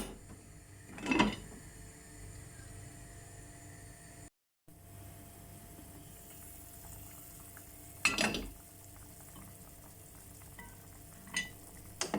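Meat cooking in a covered pot for a Turkish vegetable türlü, a soft steady sizzle and bubbling with a few louder bumps and clatters of the lid or pot, quiet and close, no talking.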